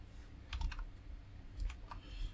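Values are typed into a FNIRSI DPS-150 programmable DC power supply: a few soft, close key taps come in two small clusters against a quiet background.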